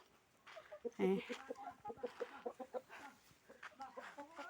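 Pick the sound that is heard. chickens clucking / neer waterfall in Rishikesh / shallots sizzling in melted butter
chickens clucking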